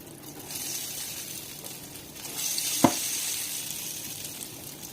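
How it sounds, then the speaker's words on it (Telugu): Batter-dipped burelu, a traditional Andhra sweet, frying in hot oil with a steady high sizzle throughout, rising a little midway, and one brief sharp clack near the end. No voices. "ఒక 4, 5, 6 అలా వేసుకుంటే మంచిగా ఫ్రై అవుతాయి"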